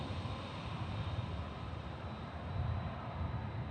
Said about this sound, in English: And we also have a 767 taxiing by.